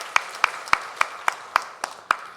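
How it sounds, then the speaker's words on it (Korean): Church congregation clapping in unison, about eight sharp, evenly spaced claps in a quick steady rhythm, with no voices. "우리 박수로 축복하겠습니다."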